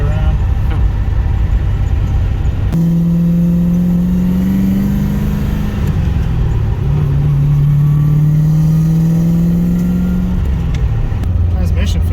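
Nissan 240sx with a swapped LS V8 and T56 manual transmission driving, a steady low engine drone rising in pitch in long pulls, close and loud throughout with road noise beneath.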